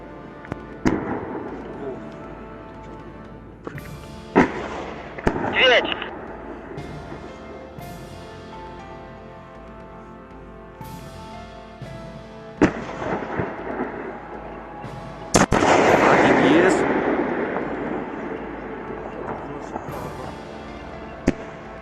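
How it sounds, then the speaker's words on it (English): A twin launch of Russian UR-77 and UR-83P mine-clearing charges sets off a string of sharp, distant cracks and thumps that echo away. A long rumbling roar follows one late blast. "there is a twin launch of Russian UR-77 and UR-83P, which are basically mine-clearing weapons"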